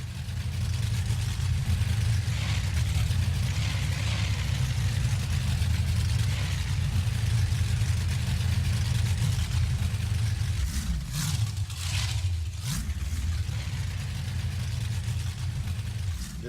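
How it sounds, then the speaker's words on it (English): The engine of the 1985 Caliper monster truck at Indy rumbles loudly and steadily, a deep heavy idle with brief surges of revving near the end. "Listen to the engine in this truck."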